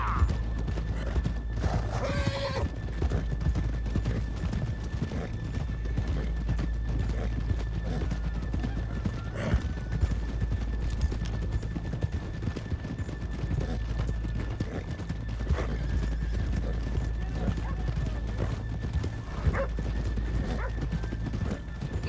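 Horses in Red Dead Redemption 2 clop steadily along with a continuous rhythmic patter of hooves, and a clear whinny rises near the start over a low game ambience.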